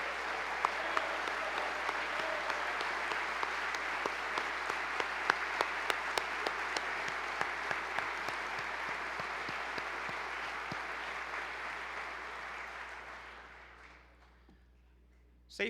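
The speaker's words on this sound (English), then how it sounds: "let's give them a round of applause for their current service going forward" Sustained applause from a large audience honouring military members and veterans at a state government address, a dense steady wash of clapping with some sharp individual claps that fades out near the end.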